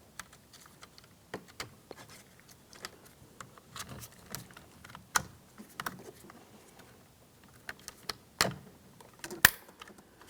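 Sharp plastic clicks and soft handling taps as switch panel connectors on a GMC Sierra front door are pressed into place, several isolated snaps spread irregularly, close and fairly quiet.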